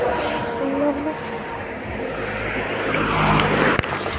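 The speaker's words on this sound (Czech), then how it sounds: "Jde autobus." A bus arrives on a street, its engine rumble and road noise building steadily closer, with a brief sharp clack near the end.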